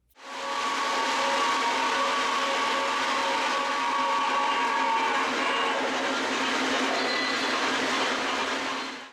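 A Hudson steam locomotive pulling a freight train rumbles past with a steady, loud roar of rolling cars and a sustained hum, fading in and out at the ends, no voices.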